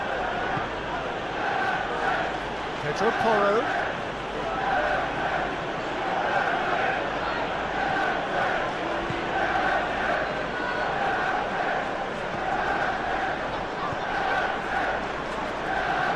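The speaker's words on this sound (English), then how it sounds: "the crowd aren't happy" A stadium crowd in the PES 21 football video game keeps up a dense, steady roar through a Man United versus Tottenham match, while a commentator talks over it.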